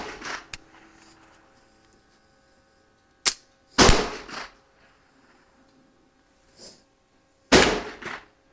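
Girsan MC14-T tip-up .380 pistol firing outdoors, sharp loud reports spaced irregularly with a few seconds between some, each followed by a short ringing decay.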